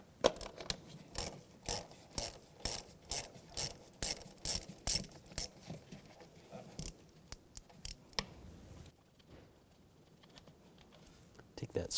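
Hand ratchet with a T20 socket backing out a screw on a 2006-2010 BMW 550i, a close, quiet run of rhythmic clicking strokes that stops partway through, followed by faint handling sounds.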